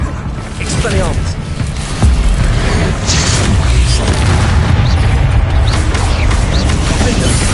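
An Expelliarmus spell cast in the Hogwarts Legacy video game, a loud booming impact among dense rumbling combat effects that continue for several seconds, with no talking.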